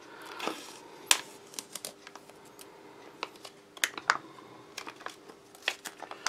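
An MRE mango and peach applesauce pouch being torn open along its edge tear strip, heard as a scatter of brief, close crinkly snaps and rustles of plastic packaging at uneven intervals.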